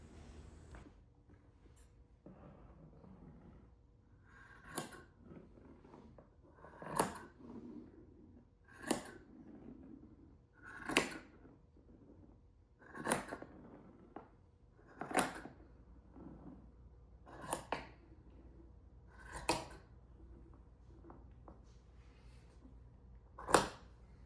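Scissors cut through a handspun, handwoven blanket to split it in half, giving about ten distinct crunchy snips at a steady pace, each a short, close, fairly loud burst over a quiet room.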